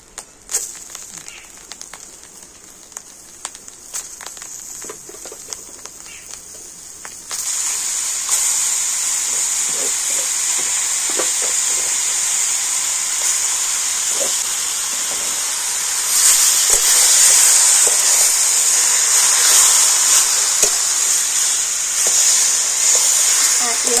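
Taro leaves (kochu shak) tossed into hot frying oil in a pan, setting off a loud, steady sizzling hiss that swells further as they are stirred, with no speech over it.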